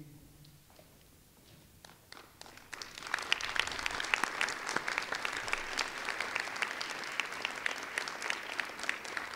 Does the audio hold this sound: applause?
yes